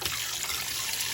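Running tap water pours over raw goat meat pieces being rinsed for Jamaican curry goat, a steady close trickle and splash with no talk.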